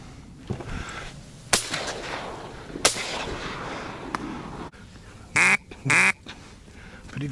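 Ducks quacking during a duck hunt, a few short harsh calls near the end, heard over outdoor wind noise with several sharp gunshot-like bangs earlier.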